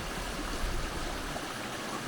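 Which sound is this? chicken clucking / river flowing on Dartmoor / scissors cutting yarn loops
river flowing on Dartmoor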